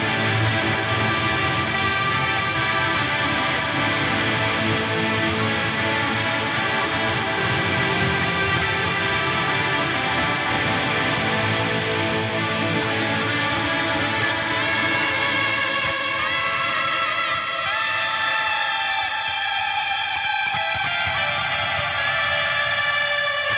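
Ambient guitar pad played through heavy distortion on an FAS Stealth Blue amp model, a dense sustained wash of layered tones swelling and slowly fading, with no voices.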